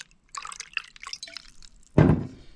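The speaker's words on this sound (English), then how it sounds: "Oh, look at that pouring." Jim Beam Vanilla bourbon poured into a glass: a short, close splash of liquid bursts in near the end, after a stretch of faint, busy background sound.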